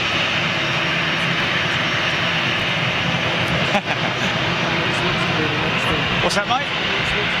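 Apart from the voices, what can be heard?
jet airliner CFM engines powering up at Dusseldorf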